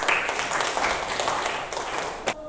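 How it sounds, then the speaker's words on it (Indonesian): Classroom applause from students during a lesson, moderately loud scattered clapping that holds steady then tapers, with a sharp clap near the end. "tepuk tangan."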